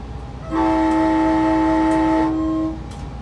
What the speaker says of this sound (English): 6962's horn, as you can hear.